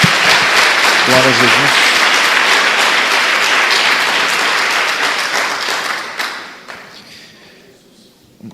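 A church congregation applauds loudly and steadily, the clapping fading away toward the end while a voice speaks over it.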